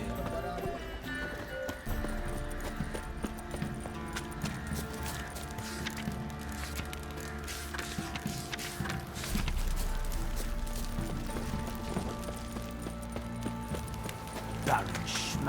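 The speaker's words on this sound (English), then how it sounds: "Giddy up. Not so fast, Roach" Hooves of a horse in The Witcher 3: Wild Hunt clop steadily in a quick, even rhythm under game music and ambient noise throughout, with a brief whinny-like burst near the end.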